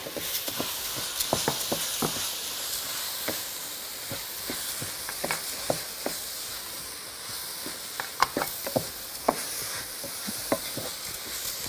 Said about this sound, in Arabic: هبتدي بقى احط الرز دلوقتي كده يعني كوبايتين رز كويسين قوي